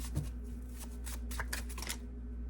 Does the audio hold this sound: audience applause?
no